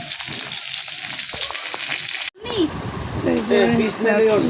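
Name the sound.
heating a piece of tilapia fish in a pan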